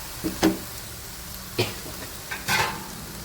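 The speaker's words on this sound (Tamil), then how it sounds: "ஒரு ரெண்டு நிமிஷம் அப்படியே கிண்டி விட்டுக்கோங்க" Ground coriander, Kashmiri chilli, pepper and cumin powders are stirred into sautéed onions for prawn thokku. Three or four separate spoon scrapes stand out over a soft, steady sizzle close by.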